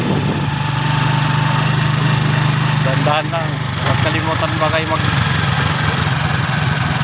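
A motorcycle engine idles close by with a steady low rumble and vibration, while someone talks over it throughout.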